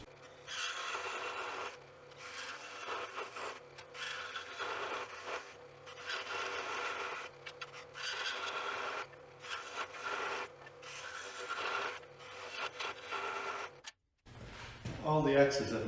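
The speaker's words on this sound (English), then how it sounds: "So with the scroll saw, it's a much cleaner cut." Repeated bursts of a scroll saw rasping through scrap wood, each lasting a second or two with short pauses between, ending with a brief different noise.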